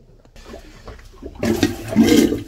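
Marine head toilet flushing aboard a 34-foot SeaRay Sundancer boat moored in the water: a quiet start, then a loud rushing, gurgling surge of water over the last second, close by with no talking.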